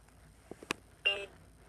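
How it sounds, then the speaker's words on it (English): Electronic beeps from a LeapFrog Fridge Talk magnetic word toy: a few soft clicks, then a single short bright beep, close and quiet in the room. "After the beep, say the opposite of up."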